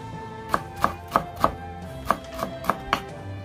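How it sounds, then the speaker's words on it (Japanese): A knife cuts okawakame (Malabar spinach) into 5 mm strips on a cutting board, eight crisp, evenly spaced chops ringing out close and clear with no talk. "おかわかめを5ミリ幅に切ります"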